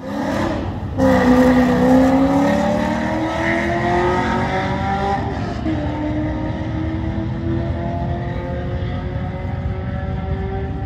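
Modified C6 Corvette with an LS2 V8 accelerating hard on a run toward 120 mph, a loud engine roar that climbs steadily in pitch through the gears, close and sustained with no talking.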